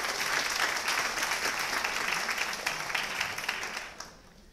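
An audience claps for the organizers at a literary event, steady dense applause filling the room before tapering off near the end.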